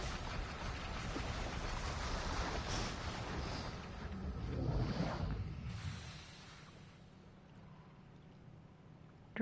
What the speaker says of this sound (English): And the water goes down.